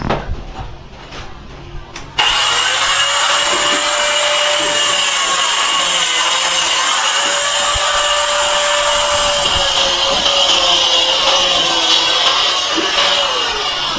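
A handheld power grinder cuts through wood on a third-floor construction site, its high whining drone starting abruptly after a few knocks and holding loud and steady throughout, with the pitch dipping slightly under load.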